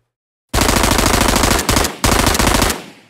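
A designed gunshot effect built with the Krotos Weaponiser plugin: a loud, rapid automatic burst, then a brief gap and a second burst that ends in a fading tail.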